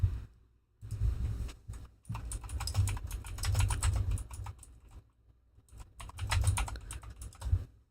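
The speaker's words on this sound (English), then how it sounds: "Sorry if the computer's typing too loud." Close computer keyboard typing in bursts of rapid clicking keystrokes, separated by short quiet gaps, fairly soft overall and with no one talking over it.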